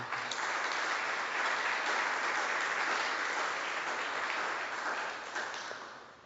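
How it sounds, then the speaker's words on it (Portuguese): A church congregation applauds during a service, a dense sustained wash of many hands clapping that holds steady for several seconds and then eases off near the end. "E se você pode, aplauda o Senhor"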